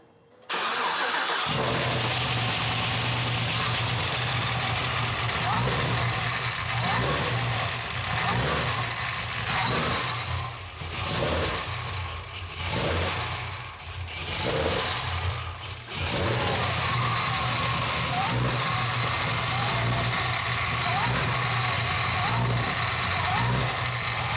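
A Cadillac CTS-V with a BTR stage 3 cam fires up after a brief crank and settles into a loud, lumpy idle that runs steadily, with a few dips in the revs midway.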